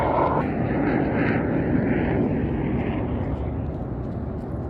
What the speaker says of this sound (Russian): Военный самолет. Вау!